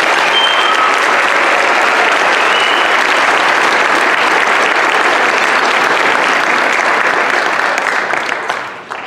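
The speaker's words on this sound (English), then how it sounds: "Please join me in a round of applause for these students." Audience at a school awards night applauding students, loud sustained clapping from a large crowd that continues for about nine seconds before fading at the end.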